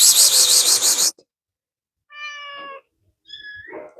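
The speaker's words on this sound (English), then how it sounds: "There's definitely a kitten over here." Kitten meowing near farm buildings, two or three short, high, plaintive calls separated by silence, following a loud burst of other noise at the start.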